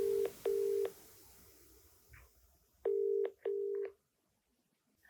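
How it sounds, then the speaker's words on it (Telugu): Telephone number being dialed on a phone keypad, a sequence of clear, short DTMF beeps in uneven clusters, fairly close, with quiet gaps between tones. "నేను కాల్ చేస్తాను"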